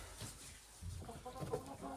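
Hens cluck softly inside a coop beside an empty nesting box, a few low, close murmuring clucks over quiet background rustle.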